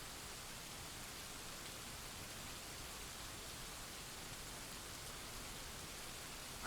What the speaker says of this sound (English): I heard the rain outside